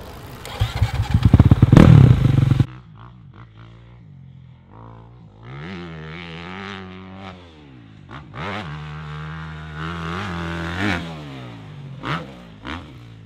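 A supercross motorcycle on a dirt track roars loudly at first, then its engine note rises and falls repeatedly as the rider throttles and shifts over jumps, with revving bursts continuing throughout.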